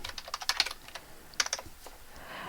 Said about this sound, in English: as I completed typing this, as I finished typing this